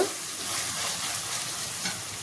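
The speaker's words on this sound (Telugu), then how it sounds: "కొంచెం పుదీనా వేసి దీన్ని కూడా ఫ్రై చేస్తాం." Mint leaves frying in hot oil for egg dum biryani, a close, constant sizzle with soft stirring scrapes, no speech.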